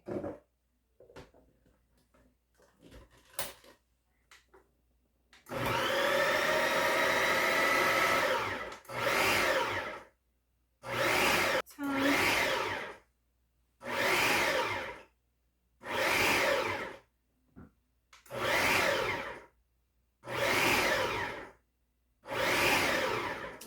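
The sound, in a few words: food processor chopping quiche ingredients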